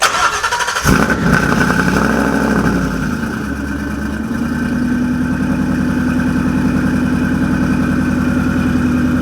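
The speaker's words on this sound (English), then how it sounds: "And then this one's got the upgraded exhaust too." A carbon-fiber Shelby GT500 recreation with a Spintech exhaust cranks and roars to life after a brief pause, revving loudly with a deep throaty exhaust before settling into a steady rumbling idle.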